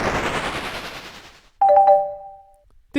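An electronic doorbell sounds a clear two-tone ding-dong, loud and close, after a fading burst of noise, with a short thump right at the end.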